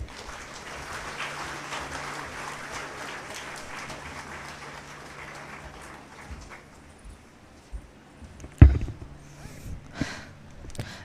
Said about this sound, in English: I request you all to clap for them.